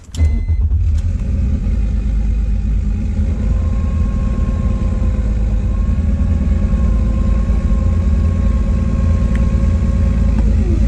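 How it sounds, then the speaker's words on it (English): A turbocharged BMW E46 with an M54 engine cold-starts with a sharp crank and catch, then settles into a loud, steady, slightly rough idle close by, with a faint whine running above the rumble. "So we're doing a cold start. See how she likes it. She might be a bit rough."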